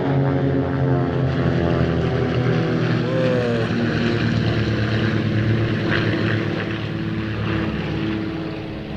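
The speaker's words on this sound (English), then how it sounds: "That's 4 World War I fighter planes." Four World War I fighter planes fly overhead in formation, their propeller engines droning loud and continuous with overlapping tones that shift in pitch as they pass.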